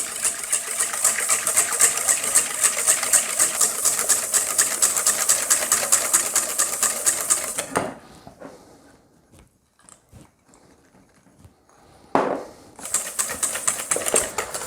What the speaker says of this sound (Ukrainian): починаємо збивати вершки і поступово будемо додавати цукрову пудру